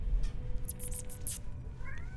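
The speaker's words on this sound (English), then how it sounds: "Meow!" A cat gives a faint, short meow near the end, a thin rising cry heard over a soft low background hum.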